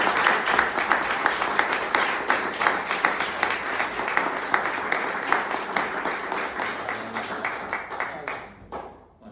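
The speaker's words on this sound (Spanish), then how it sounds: "Un aplauso para Fede." A small audience applauds after a presentation, dense sustained clapping at moderate distance that carries steadily and then tapers off and stops near the end.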